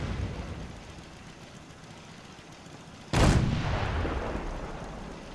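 Unmanned artillery fires in the video game Fallout 4, with low background rumble before a single sudden loud boom lands about three seconds in and rolls off into a long decaying tail.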